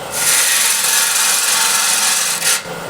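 Steel gouge wing scraping an 11-inch osage orange wood bowl on a spinning lathe, a loud continuous hissing rasp for about two seconds that briefly eases, then returns softer, with no talk.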